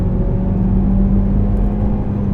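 A modified Mitsubishi Lancer Evolution X GSR gives a steady, low exhaust hum with a smooth, mild drone, fairly close and continuous, without any sharp buzz or roar.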